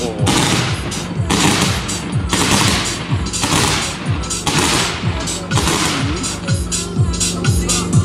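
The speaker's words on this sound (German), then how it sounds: "Als nächstes kommen wir zu den Kometenrohren, 20 mm 8 Schuss, mit einer Sekunde Verzögerung dazwischen" A rapid string of shots from 20 mm, 8-shot comet firework tubes pops and bangs one after another in a dense, overlapping barrage, loud and close, with each launch cracking sharply.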